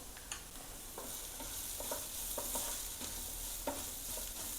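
Spoon stirring turmeric, coriander-cumin powder and chili flakes in oil in a pan over a low gas flame, scraping in a steady series of light strokes over a soft continuous sizzle.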